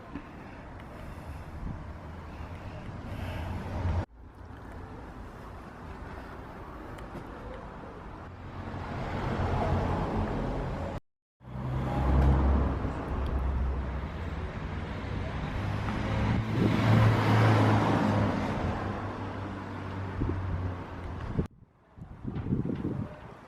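A track car drives along with steady engine and road noise, wind buffeting the microphone, and a brief cut-out partway through; the rumble stays loud and continuous throughout.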